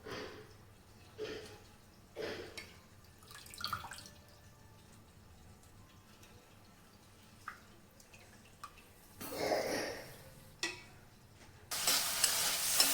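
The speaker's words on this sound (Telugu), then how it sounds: "మన ఆనియన్ టమాటా కూడా మంచిగా మగ్గిపోయినాయి" Onion and tomato cooking down in a pan for palak paneer: a quiet intermittent sizzle with bursts of stirring and scraping, swelling louder near the end, with no talk.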